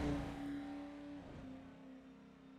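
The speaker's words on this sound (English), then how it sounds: "Truck sounds very underpowered." An underpowered racing truck engine drones and whirs at a box-style truck racing event, its pitch sagging and then holding steady as it fades slightly at moderate distance, with no talk.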